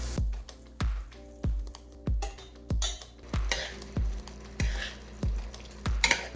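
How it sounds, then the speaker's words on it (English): Beans added to frying tomato and onion sizzle steadily in the pan, broken by a regular series of sharp spoon or spatula knocks roughly every half second, with no talking. "now I'm just gonna add my beans to the tomato and onion"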